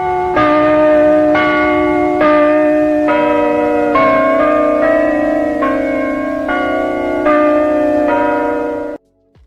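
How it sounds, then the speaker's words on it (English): Church bells of St Clement Danes in London chiming the tune Oranges and Lemons, about ten clear ringing strokes in a steady melodic sequence, loud and alone, before the recording cuts off. "you'll hear the bells chime and they play the song. They play the song of Oranges and Lemons."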